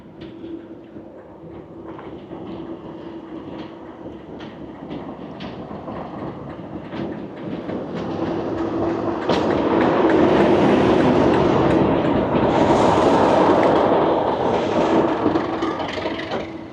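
A Class 37 diesel locomotive running round its train on the Severn Valley Railway during a heritage gala, its engine droning steadily with clanking wheels over rail joints, growing louder as it passes close by.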